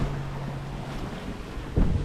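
Steady wind rushing over the microphone with low water and hull noise of a sailboat under way, a louder gust near the end.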